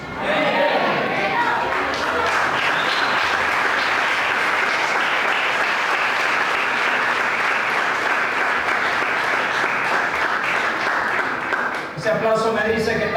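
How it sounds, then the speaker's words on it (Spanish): A church congregation bursts into sustained, loud applause that fills the room for about twelve seconds, briefly dipping before a preacher's voice returns at the end. "Ese aplauso me dice que estás aplaudiendo"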